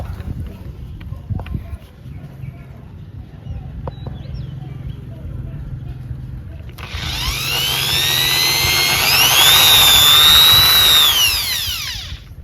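An electric drill with a small bit bores holes for a rear rack on a Honda CB1300 motorcycle. After several quiet seconds it starts suddenly, whining loud and close for about five seconds with rising pitch, then winds down.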